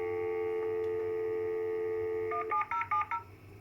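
A steady dial tone on a BT phone line, plugged in through a VDSL setup, hums alone before five quick touch-tone digits for the test number 17070 beep in a rapid, close sequence.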